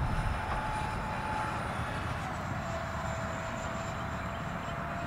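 FF-117 electric ducted fan model jet flying at about half throttle, a steady continuous whine with a faint high tone and broadband rush, moderately distant and unchanging throughout.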